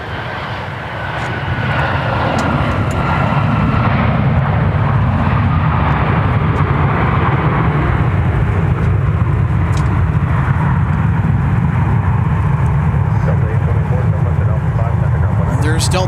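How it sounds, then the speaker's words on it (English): An MD-95 airliner arrives at Minneapolis–St. Paul airport in a steady, loud jet roar that swells within the first two seconds and holds as a broad rumble, with talk over it. "we have an MD-95 coming in from St. Louis, Missouri"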